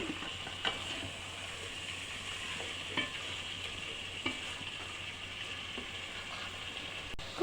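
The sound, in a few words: stirring chicken pieces in a pan for biryani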